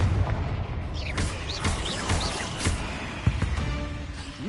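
Confringo fire spell explosions in a Hogwarts Legacy battle with spiders, a dense rumbling barrage of booms and crackling blasts over game ambience, with one sharper bang near the end.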